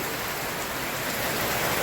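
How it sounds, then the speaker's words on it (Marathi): Heavy rain pours down in a dense, unbroken roar, loud and even throughout with no other sounds standing out. "अरे पाऊस चालू झाला"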